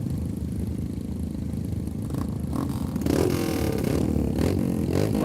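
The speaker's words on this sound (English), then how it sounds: "Engines up, engine running. Let's hear the Himalayans." Several Royal Enfield Himalayan motorcycles running together at a rider festival track, a steady low engine drone that swells with rev bursts partway through, loud and close, with no talking.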